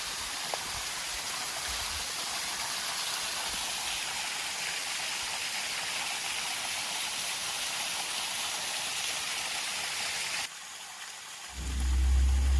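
The Curug Silangit waterfall, a three-tiered fall in the Menoreh hills, roars as a constant broad rush of water, then drops in level near the end as a deep low rumble rises.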